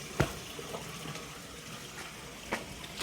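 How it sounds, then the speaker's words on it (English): Water flows steadily into a drainage system beside an old historic building that still works, a soft continuous rush with a few faint knocks, nobody talking. "Water now goes down into the drainage system."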